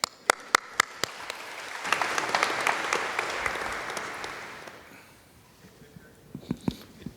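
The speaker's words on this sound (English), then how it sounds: "give yourselves a round of applause again" At Victor Oladipo's Most Improved Player press conference, a few sharp isolated claps open into a short burst of room applause that swells and then fades, followed by scattered claps and clicks.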